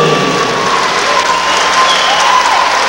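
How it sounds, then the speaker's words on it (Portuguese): Dense, loud applause from an audience at a 1992 talent show in Taió, Santa Catarina, steady and continuous throughout with no breaks. "Vamos aplaudir."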